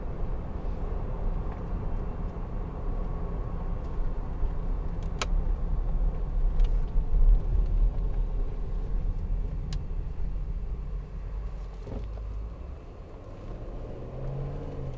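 A 2012 Range Rover TD V8 Westminster on the move, its diesel V8 giving a steady low rumble with road noise throughout, heard from inside the cabin with no talking and a few faint ticks.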